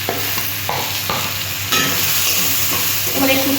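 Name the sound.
spices being stir-fried in a pan for fish curry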